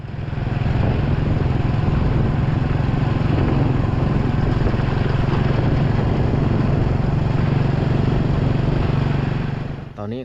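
A motorcycle being ridden, a loud steady engine drone held close for about ten seconds with wind rumble, cutting off at the end.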